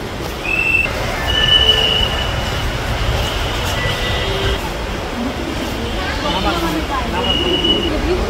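A train rolls past in Dhaka, Bangladesh, its wheels letting out several high, thin squeals over a loud steady rumble, while people nearby talk over the noise.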